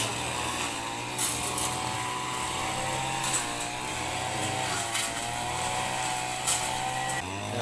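A string trimmer cutting grass around a temple pond buzzes continuously with a high motor whine, its pitch wavering slightly as it cuts, steady and fairly close.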